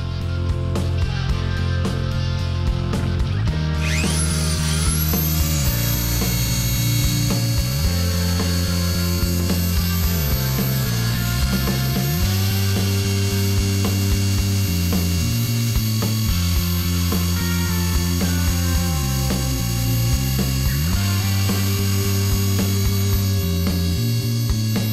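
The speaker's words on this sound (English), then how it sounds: "we're going to outline those to show you how well these burrs work" Rotary burrs carve outlines of dogwood flowers and leaves into a skull, a loud, continuous whining grind whose pitch steps up and down as the tool presses and eases off.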